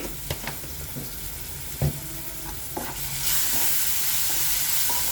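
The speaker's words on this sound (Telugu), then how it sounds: "అల్లము ఎల్లుల్లిపాయ పేస్ట్ చేసుకున్నా వేసుకోండి" Ginger garlic paste frying in a pan for tindora masala curry, a close hissing sizzle broken by stirring scrapes and clinks, the sizzle swelling louder and more constant toward the end, with no voices.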